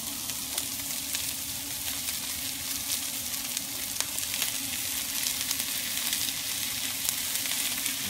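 Corned beef hash fries in butter on a griddle, a steady, even sizzle with scattered crackles and pops holding at moderate loudness throughout, with no one talking.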